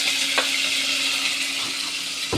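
Garlic and chili frying in a hot pan while being stirred, a steady broadband sizzle with a few soft scrapes of the utensil, close and continuous, ending in a brief clatter.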